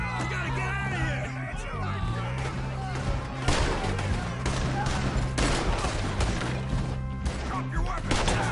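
Dense gunfire rattles through a Red Dead Redemption 2 shootout, sustained volleys of rifle and pistol shots close by, mixed with shouting voices and music underneath.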